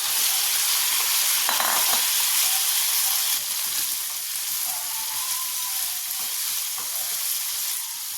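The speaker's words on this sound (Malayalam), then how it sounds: "ആ തക്കാളി ഇതിലേക്ക് ചേർക്കുകയാണ്" Tomatoes hit fried shallots in a hot pan, giving a steady, loud sizzle and hiss that continues without pause, with faint stirring scrapes and no speech.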